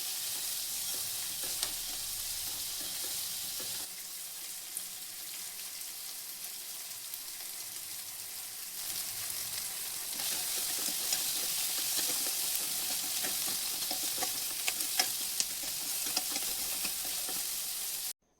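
Chopped onion, tomato, curry leaves and green chillies sauté in a pan for a Kodava-style Coorg fish curry, giving a steady, close frying sizzle with stirring scrapes, a little louder in the second half, with no talking.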